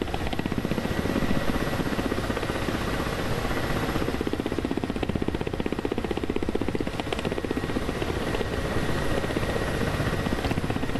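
A helicopter flies in the DCS World flight simulator game, its rotor a steady, dense thumping beat layered over a constant engine roar. The sound stays loud and unbroken throughout, with no voices.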